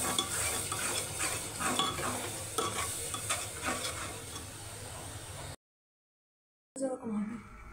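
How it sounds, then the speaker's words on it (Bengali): A biryani mixture with sour curd is stirred in a pot over heat, giving dense continuous scraping and sizzling for several seconds. It cuts to silence, then brief clatter resumes. "নাড়াচাড়া দিয়ে দাও, টক দই মিক্স করে দিই।"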